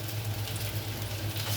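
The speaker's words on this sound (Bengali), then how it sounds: "তেলে দিয়ে দিচ্ছি রসুন, দিয়ে দিচ্ছি পেঁয়াজ, দিয়ে দিচ্ছি কয়েকটা কাঁচামরিচ" Garlic, onion and green chillies sizzle steadily in hot oil, a continuous close frying crackle with no talk over it.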